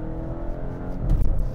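A 2023 Volvo V60 Cross Country AWD hybrid wagon accelerates, its gas engine and electric motor producing a steady rising drone heard from inside the cabin, close and fairly loud.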